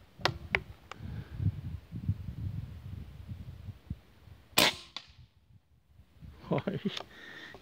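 A PCP air rifle fires a heavy JSB pellet that punches through two wooden boards, heard as one sharp crack near the middle, a few lighter ticks early on, and a further burst of impacts toward the end, all over steady outdoor wind noise.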